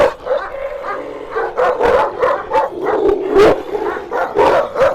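A 10-year-old Caucasian Shepherd guard dog barks repeatedly in quick, uneven bursts, close by, with yips mixed in and no talking.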